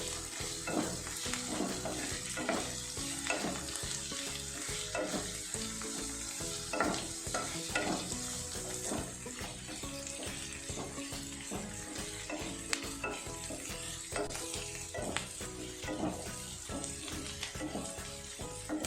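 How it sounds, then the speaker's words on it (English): Thinly chopped onions frying for an egg curry, a continuous close sizzle broken by rhythmic spoon scrapes and stirring knocks against the pan throughout, with no talking. "Let's add thinly chopped onions into this. Mix it well."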